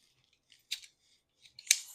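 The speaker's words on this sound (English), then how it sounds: "Scissors." A pair of scissors taken from a craft supply basket makes a few quiet, sharp metallic snips and clicks. The sounds come in short separate bursts with silence between them, close up and faint.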